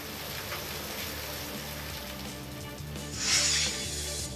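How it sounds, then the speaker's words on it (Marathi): Heavy pre-monsoon rain in the Sangli and Miraj area, a steady dense hiss of drops on surfaces that swells louder near the end, with a low rhythmic hum running underneath. "सांगली आणि मिरज परिसरामध्ये मान्सूनपूर्व पावसानं हजेरी लावली"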